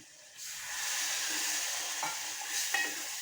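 Cauliflower tossed into a pan of hot spices with chili powder and garam masala, stirred and frying: a steady bright sizzle with a few scraping stir strokes, fairly close and unaccompanied by talk.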